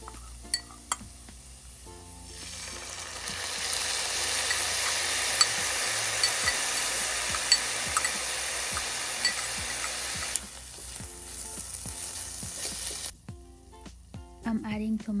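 Saffron ground beef and tomato sauce sizzle in a pan while being stirred, a steady frying hiss with spoon scrapes and clinks against the pan, and clearer metal knocks when the sizzle fades near the end.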